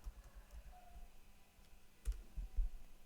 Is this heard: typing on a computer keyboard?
yes